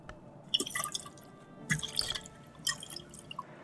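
Water drips in the video game Book of Hours, in a few separate bright bursts of splashy droplets with quiet gaps between them.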